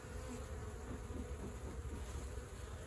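Honeybees in a horizontal jumbo Langstroth hive during an inspection buzz in a steady, low, continuous hum, faint and close with no breaks.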